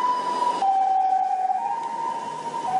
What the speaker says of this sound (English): speaking of that ambulance going by with a siren